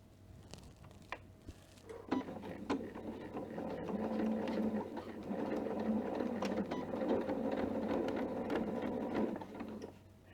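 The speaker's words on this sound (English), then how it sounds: "I'm going to sew backwards a few till I get to the edge" A sewing machine stitches a bag pocket onto lining, starting with a few short bursts and then running in a steady, close mechanical whir for several seconds before stopping.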